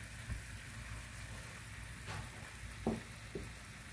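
Pork sizzling and frying in a pan with vegetables, a low steady hiss with a few brief louder stirring clinks near the end, no talking.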